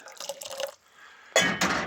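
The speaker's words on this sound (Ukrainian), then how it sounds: "Наливаю їм, звісно, потрішки водички" Water pours into a rabbits' water bowl during winter care, a short trickling fill, a pause with faint dripping, then a louder splashing pour near the microphone, with no speech.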